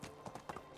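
Horse hooves clip-clop in the medieval farming game Medieval Dynasty, a quick, even run of soft, faint hoofbeats close by, heard alone.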